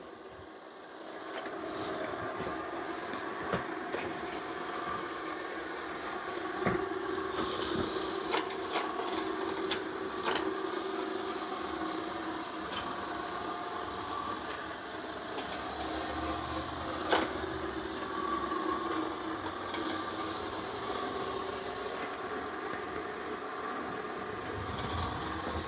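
Narwal Freo Z Ultra robot mop working across a floor in a crisscross pattern, a steady mechanical hum and whir with scattered clicks and small knocks throughout, nearby and moderately loud.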